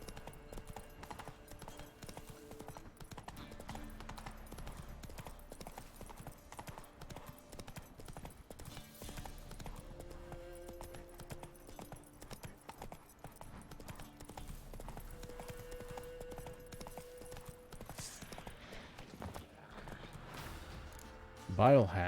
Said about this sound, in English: Giddy up. Cover a lot of ground with Roach anyway